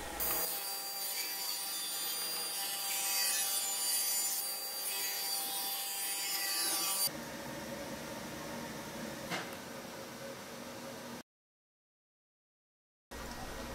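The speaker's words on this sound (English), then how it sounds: "I'm going to be cutting these up into 3/4 by 3/4 inch strips." Power saw ripping wood into 3/4 by 3/4 inch strips for a bartop arcade cabinet: a loud, continuous whining cut for about seven seconds, then a quieter run-down before stopping, then resuming briefly.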